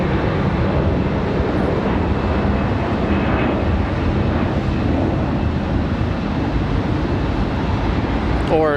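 A jet airliner at Charlotte Douglas airport rolls down runway 36 center on its takeoff run, a steady, loud, broadband engine roar holding throughout, with wind buffeting the microphone.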